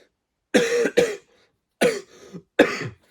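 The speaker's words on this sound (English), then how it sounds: "Sorry, I got a cough." Four harsh coughs close to the mic, two in quick succession, then a pause and two more separated by a short silence.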